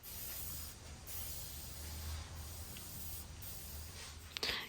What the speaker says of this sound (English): I'm also going to be spraying it over the areas where I'll be applying the toner